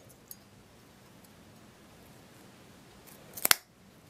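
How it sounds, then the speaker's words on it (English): A single sharp mechanical snap-crunch of a hole punch cutting through electrical tape near the end, close by, after a quiet stretch of faint room noise. "So now what you're going to do is take your hole puncher"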